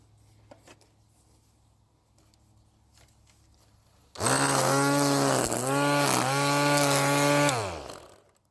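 A Worx string trimmer with fresh trim line sits quiet, then starts up loud and close, its motor whining at a high steady pitch with two brief dips before winding down to silence.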